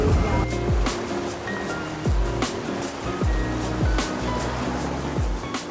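A Vaporetto water bus riding along a Venice canal, with a steady rumbling engine drone and continuous rushing water and surf, plus recurring thumping pulses about every second, loud and close.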